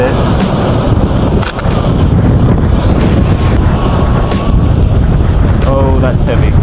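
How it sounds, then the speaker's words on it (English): Heavy rain hammers down outdoors in a loud, constant roar mixed with wind buffeting the microphone, with a few brief voices underneath. "That is heavy rain."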